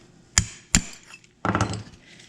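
Two sharp metallic strikes of a chisel in quick succession, then a rougher scraping clatter as a metal part gives way on a 1964-70 Ford Mustang.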